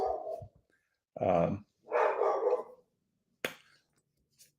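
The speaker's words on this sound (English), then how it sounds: "So that's my dog barking" A dog barks indoors at close range, three short loud bursts, followed by a brief sharp noise and quiet, with a speaker's voice nearby.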